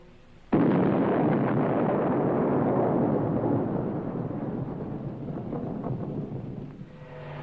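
Abandoned wartime weapons and tanks are blown up in a sudden heavy blast that rolls into a long, deep rumble, slowly fading over several seconds.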